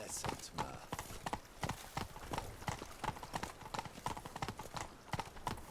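Hooves of Roach, a horse in The Witcher 3, clop in a quick, steady galloping rhythm, close and clear, with short snatches of voices over the footfalls.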